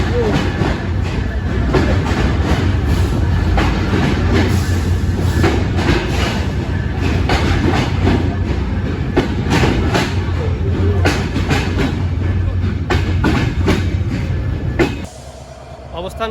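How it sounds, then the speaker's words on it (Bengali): The Drutojan Express runs on its rails, giving a loud continuous rumble with rhythmic clickety-clack wheel beats heard from on board. The noise drops abruptly to a quieter hum just before the end. "এসব কিছু নিয়ে ছুটতে থাকে ট্রেনটি"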